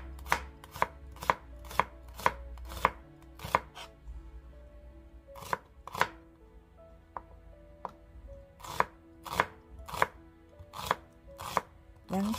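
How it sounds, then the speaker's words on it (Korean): A knife chops vegetables such as cabbage, onion and carrot on a cutting board, sharp close thuds in quick irregular bursts separated by short pauses, with a faint hum in the background. "그래서 준비한 채소는 다채 썰어서 넣기로 하죠"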